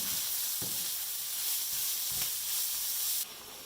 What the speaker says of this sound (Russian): Лук обжарили до золотистого цвета. Теперь добавляем морковку. И все это обжариваем.